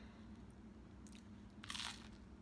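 Two crisp bites into a crunchy keto bagel crackle up close, a short snap followed by a louder crunch, set against quiet room hum.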